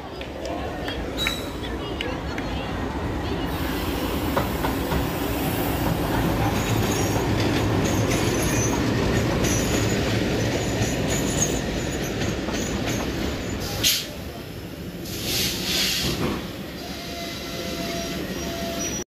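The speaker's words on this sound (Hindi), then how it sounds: "सामने से आ रही है बठिंडा से श्री गंगानगर के बीच में चलने वाली एक्सप्रेस ट्रेन" An express train between Bathinda and Sri Ganganagar rushes past on the opposite track beside an electrified passenger train, its wheels clattering and squealing in a long, loud pass that briefly drops away near the end, with voices in the carriage.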